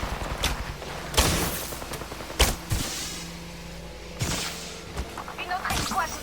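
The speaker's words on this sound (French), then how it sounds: "Une autre escouade me tire dessus." An enemy squad fires on the player in Apex Legends, with sharp bursts of gunfire in quick clusters at close to mid range. Spoken character callouts sit among the shots.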